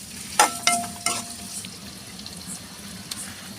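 Sliced big onions dropped into hot groundnut oil in a kadai, a few sharp clattering hits and bursts of sizzle near the start, then a soft continuous frying hiss with occasional small crackles.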